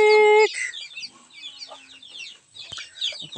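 Chickens being fed rice from a feeder cut from a tire cluck and chatter busily up close, with a loud tonal call at the start and scattered pecking and rustling after.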